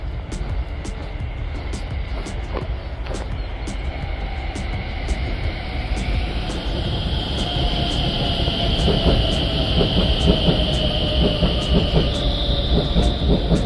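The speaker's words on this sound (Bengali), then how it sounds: "এ দেখেন ট্রেন আসতেছে।" A train approaches and passes on a snowy European railway, its rumble and rhythmic clatter of wheels growing louder, with sustained tonal whines rising in pitch near the end.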